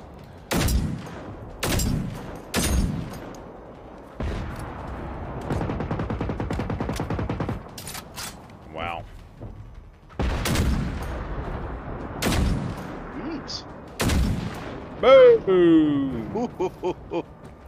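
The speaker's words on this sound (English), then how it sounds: "Oh, he's shooting at me." Gunfire in the video game Generation Zero, a string of sharp, loud single shots spaced a second or two apart, with a rattling burst in the middle and people talking between them.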